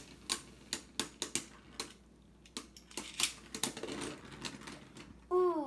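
Beyblade spinning tops clatter and collide in a stadium arena, sharp irregular clacks and ticks in quick bursts, fairly faint, with a brief rising spin whine at the end.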